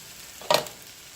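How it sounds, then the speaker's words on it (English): Beans stirred into onion and peppers frying in a pan, a single brief scraping stir with a burst of sizzle over a steady low frying hiss, close by. "Mix those beans in with that onion and peppers."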